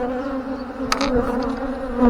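Honeybees buzz during a hive inspection, a dense, steady close-up drone with a couple of brief brushing noises partway through.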